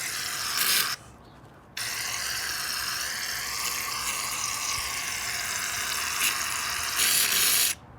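Shaving cream sprays from an aerosol can into a bowl for puffy slime, a loud, steady, close hiss that breaks off once briefly before continuing to the end.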